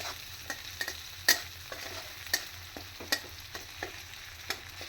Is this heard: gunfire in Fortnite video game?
no